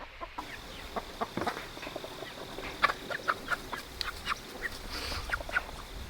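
Splash Marans chickens cluck and chatter in a flock, with many short calls scattered across the whole stretch at close range, some rising louder than others over a steady outdoor background.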